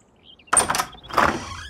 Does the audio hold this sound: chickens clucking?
no